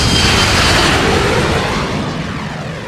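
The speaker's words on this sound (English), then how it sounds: "The airplane is waking up!" A cartoon airplane starting up at an airport, heard as a loud broadband roar that swells at once and then slowly fades away, with nothing else over it.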